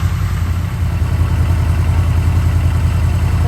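A car engine idles on its own with the ignition leads disconnected, a steady, loud low rumble with an even pulse that holds throughout, close by and with no talking.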